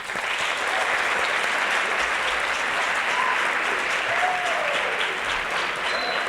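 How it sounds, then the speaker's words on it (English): An audience at a high school sports awards ceremony applauds the trainer, a dense, even round of clapping that carries steadily throughout at moderate volume. "I would like you to thank our trainer. Applause, please."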